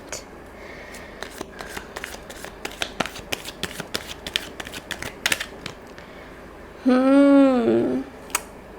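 Tarot cards are drawn and handled in a string of crisp flicks, slaps and shuffling rustles at close range, with a brief voiced sound near the end.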